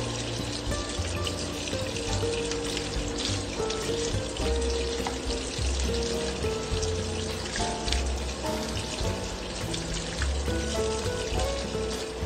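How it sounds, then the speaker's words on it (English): Kale leaves being washed under a running kitchen tap, a steady continuous rush and patter of water with some splashing, loud and close throughout without any talking. "First, we're going to wash kale."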